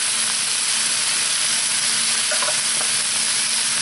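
Bacon and Brussels sprouts frying in a pan, a steady, close, broadband sizzle and hiss that holds evenly throughout, with faint stirring scrapes and no talking.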